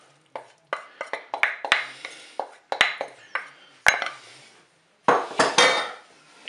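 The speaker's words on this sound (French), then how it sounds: "On mélange tout ça." A spoon stirs leek cake batter with gruyère in a bowl, making a series of close, sharp clinks and scrapes in irregular bursts with short pauses between.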